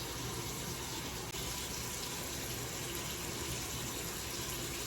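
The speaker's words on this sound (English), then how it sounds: "And I run cold water so it's not as painful." Cold water runs steadily from a bathroom tap during a beauty routine, a constant even gush that fills the whole stretch without breaks, with no voices.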